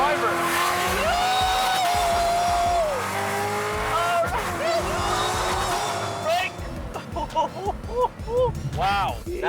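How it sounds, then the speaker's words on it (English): A tuned car with a flat-shift launch option accelerates hard, its engine note rising loud and close through sharp revving pulls and then breaking into choppy, popping bursts, while people talk over it. "Why don't you just accelerate a little bit so we can hear it?"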